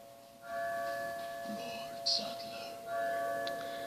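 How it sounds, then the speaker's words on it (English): Village bell in the video game Resident Evil 4, sustained ringing tones that sound twice with a brief lull between, moderately loud against quiet in-game ambience, with faint whispered voices. "the bell will ring"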